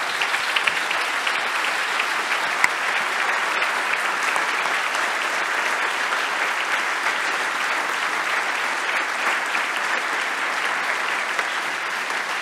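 An audience at a conference applauds its four speakers with sustained, even clapping that fills the room at a steady level from start to finish, with no voices above it.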